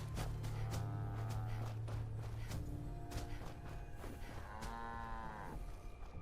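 Cattle on a farm in the video game Fallout 4 moo several times, long drawn-out lowing calls rising and falling over a steady low hum of game ambience.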